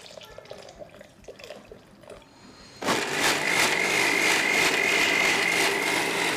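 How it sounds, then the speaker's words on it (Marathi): A blender whirs through a vanilla kulfi mixture, starting abruptly partway in and running loud and steady to the end, after quieter clattering kitchen noise at the start. "आता हे आपल्याला एकदम छान आणि फाईन असं ब्लेंड करून घ्यायचंय"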